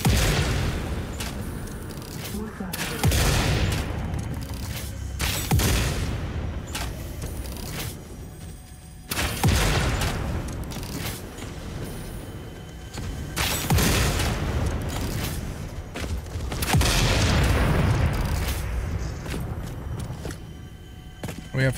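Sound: shotgun shots in video game Satisfactory

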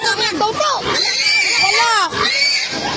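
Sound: pigs in a flooded pen

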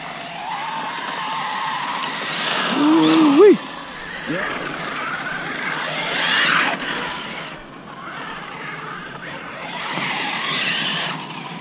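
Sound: Losi Super Baja Rey RC car driving on loose dirt

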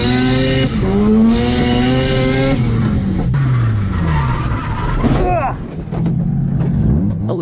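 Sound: drift car skidding and spinning out

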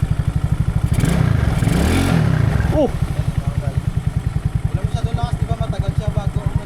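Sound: Yamaha Mio Sporty motorcycle engine revving, accelerating

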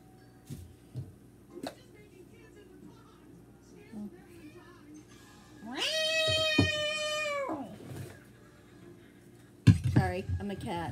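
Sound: person meowing, imitating a cat

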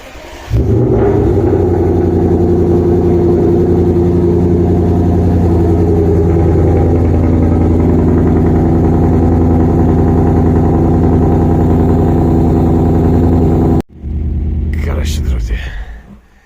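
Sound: sports car engine rumbling

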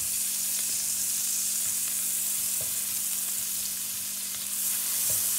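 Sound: butter melting and sizzling in a frying pan

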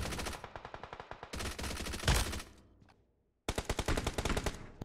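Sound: gunshots from a battle royale video game

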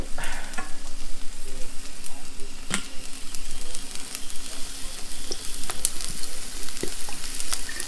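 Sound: Pad Thai rice noodles stir-frying with fish sauce

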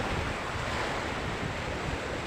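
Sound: sea waves and wind at the shore

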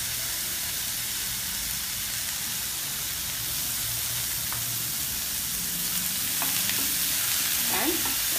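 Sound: stirring channa dal with grated coconut in a pan

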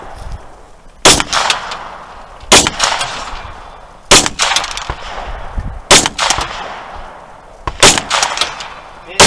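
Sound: gunshots at a three-gun shooting competition

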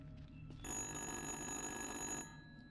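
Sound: phone ringing in the video game Little Hope

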